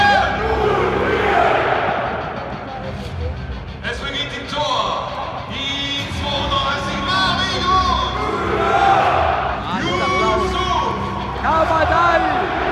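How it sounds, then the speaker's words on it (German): Stadium crowd at a Schalke versus Paderborn football match, cheering and applauding loudly with bursts of shouting and chanting, dense and continuous throughout, with voices rising over the broad roar. "Verdienter Applaus."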